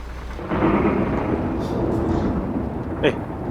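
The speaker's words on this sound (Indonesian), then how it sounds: "malam-malam hujan dingin" Rain and thunder fall at night in the Bus Simulator Indonesia video game, a steady loud downpour with a low rolling rumble swelling after a beat and a brief sharper crack near the end.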